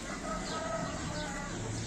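Chickens clucking close by in a yard after a scuffle between farm birds, a steady busy fowl chatter with no talk over it.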